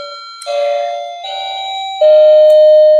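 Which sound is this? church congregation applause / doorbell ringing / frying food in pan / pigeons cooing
doorbell ringing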